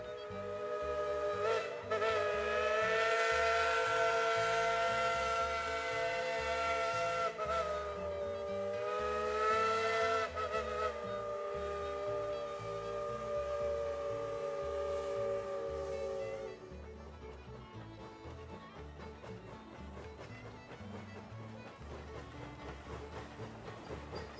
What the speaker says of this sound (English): The Tweetsie train whistle is a common sound around the park.